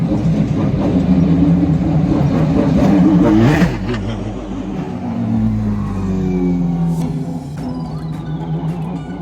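A race car heading to pit lane for the recon lap at the 12 Hours of Sebring. Its engine roars loud and close, revving then easing into a lower droning hum with shifting pitch.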